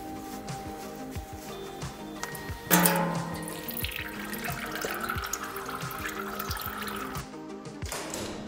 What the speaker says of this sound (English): After we have now removed the under tray, we can now drain the oil.